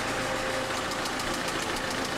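Damaged car engine running with a steady, rough knocking rumble, close and continuous, with rattling vibration and no voices.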